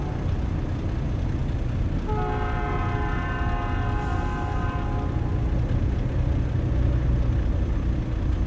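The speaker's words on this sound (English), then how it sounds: "I hear that train a come." Train passing in the video game American Truck Simulator: its horn sounds a sustained chord for about three seconds over a constant, loud rumbling engine and road noise.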